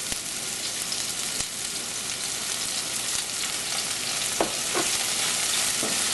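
Minced garlic frying in a pan for tilapia cooked in coconut milk, a loud steady hiss of hot oil up close with occasional light scrapes of stirring.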